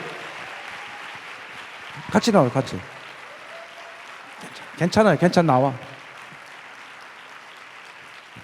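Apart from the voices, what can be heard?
audience applause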